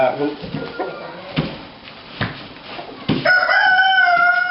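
A Chantecler rooster is pulled from its cage, clucking and squawking in short bursts close by, then letting out a loud, drawn-out crow at the end.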